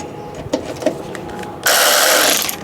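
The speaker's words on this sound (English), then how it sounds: "let's get some of these bolts undone" A few faint clicking turns from a ratchet working on bolts of a crash-damaged Fiat 500, followed by a sudden loud, sustained mechanical whirring burst for the last second.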